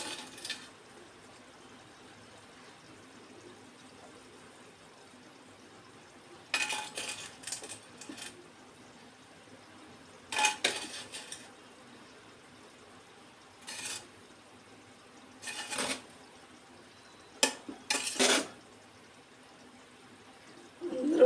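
Stingray fish dum biryani being turned carefully in a metal pot: a quiet background broken by several brief bursts of spoon scraping and clinking against the pot, spaced irregularly.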